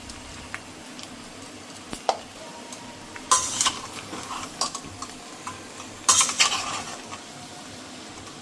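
A spoon stirs spices through a dry, gravy-less vegetable dish in a pan, giving scattered scrapes and clinks, with two louder bursts of scraping against a quiet background.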